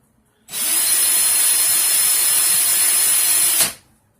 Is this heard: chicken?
no